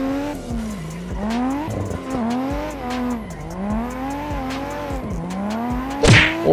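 Cars tandem drifting in the racing game Assetto Corsa, with a revving engine rising and falling through repeated gear changes and continuous tire squeal, ending in a sharp scrape.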